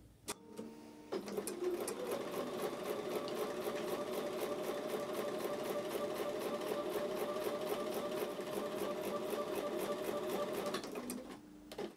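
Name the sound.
sewing machine stitching seams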